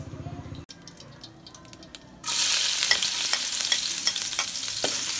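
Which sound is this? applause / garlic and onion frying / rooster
garlic and onion frying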